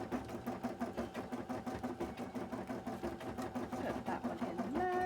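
A sewing machine stitches around the edge of a cosplay piece in a steady, rapid, rhythmic run, heard close and fairly quiet, with a brief slowing at the end.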